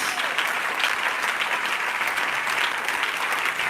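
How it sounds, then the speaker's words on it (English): Congregation at a church conference clapping hands steadily and loudly, a dense, continuous wash of many palms with no break throughout. "Clap your hands, clap your hands."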